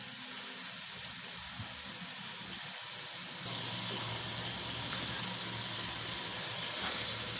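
Chicken and potatoes frying in a pan over medium heat for chicken aloo curry, giving a quiet, steady hiss and sizzle that grows brighter partway through, with no talk.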